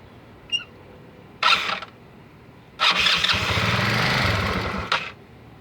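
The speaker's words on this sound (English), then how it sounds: "Now let's see if the bike will start." Scooter fitted with a rebuilt starter motor cranks in two short whirring bursts, then catches and runs with a steady engine drone for about two seconds before shutting off, close and fairly loud.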